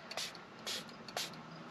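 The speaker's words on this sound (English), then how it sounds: "you're going to spray the back of it" A spray bottle mists water onto the back of a screen protector for a GMC Sierra AT4 touchscreen, three short hissing bursts spaced evenly apart, close and clear with no speech.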